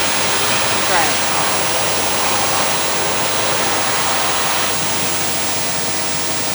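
A hand dryer with a HEPA filter blows on hands after washing, a loud, steady broadband roar of rushing air that holds for several seconds.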